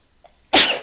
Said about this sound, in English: now I've got the sneezes